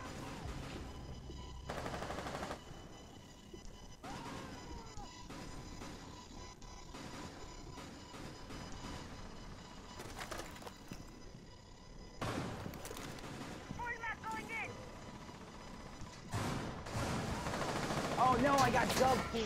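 Bursts of gunfire crackle through a Rainbow Six Siege match, growing denser and louder toward the end over continuous game noise, with voices faintly mixed in.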